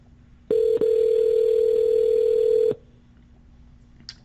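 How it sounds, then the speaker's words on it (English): An outgoing call on the RingCentral dialer gives one long steady ringback tone of about two seconds with a brief break near its start, then near silence. "it will start ringing"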